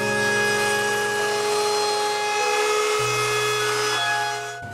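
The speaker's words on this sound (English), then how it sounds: "we're going to move over to the router table where I have a rounding bit installed." A router table fitted with a rounding bit cuts wood, its motor whining in a steady high tone that drops in pitch as the bit bites into the workpiece, then winds down at the end; no voices.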